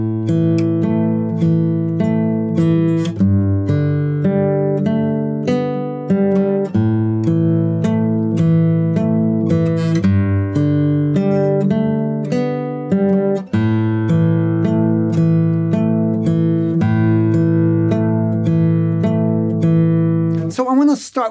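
Fingerstyle acoustic guitar playing the intro to Scarborough Fair, steady arpeggiated plucked notes with ringing bass and melody, clear and close, played alone without talking.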